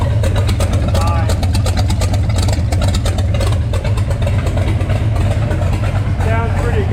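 A 1933 Plymouth engine idles through homemade headers built from a big block Chevy lake-style kit with an internal muffler, a steady loud low rumble throughout, with talking layered over it.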